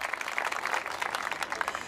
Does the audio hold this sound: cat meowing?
no